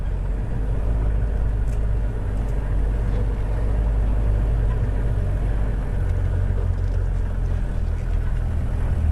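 A vehicle drives on a safari in Botswana, giving a steady, loud, low engine rumble and road noise that holds unchanged throughout, with no speech.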